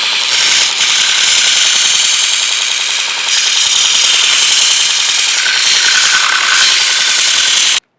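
A power grinder works the edges of bronze steam locomotive connecting rod bearings, putting out a loud, continuous, close abrasive whine that holds steady for several seconds, with no talk.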